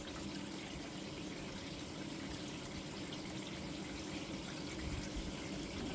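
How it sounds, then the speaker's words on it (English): Water sprays in a soft, even hiss from the rainfall setting of a No Boundaries multi-function sink faucet, a steady, fairly quiet shower of droplets with no break from start to finish. "That is the rainfall."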